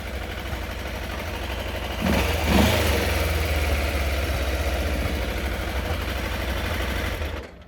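A Triumph Trophy motorcycle engine idles with a vacuum leak, a steady close rumbling run that rises briefly in a slight rev midway, then settles and cuts off at the end.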